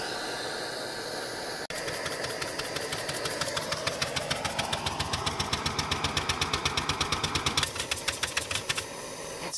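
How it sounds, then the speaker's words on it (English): A small flywheel steam engine heated by a propane torch chugs with a fast, steady mechanical beat that quickens over several seconds, set against a continuous hissing roar of the torch flame. "about the only way I can get it to spin fast enough to run that little motor is powering it with a propane torch"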